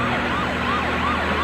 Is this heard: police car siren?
yes